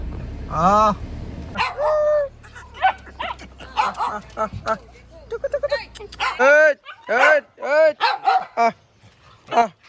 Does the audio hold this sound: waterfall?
no